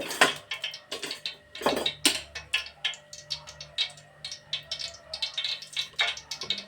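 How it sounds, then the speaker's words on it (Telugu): About 100 grams of cooking oil is ladled into a pan, the metal ladle clinking and tapping against the pan again and again in quick, close, irregular knocks. "3 గరిటెలు నూనె పోస్తున్నాండి"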